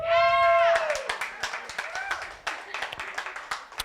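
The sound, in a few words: comedy club audience clapping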